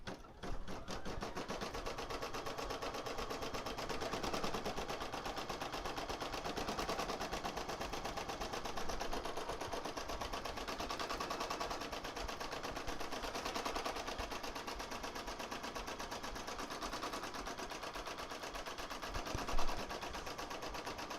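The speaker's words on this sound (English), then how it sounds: "I'm going to lower that and stitch the placement stitch" An embroidery machine sewing an appliqué placement stitch, a fast continuous mechanical rattle and whir that holds steady and loud throughout, with one brief louder knock near the end.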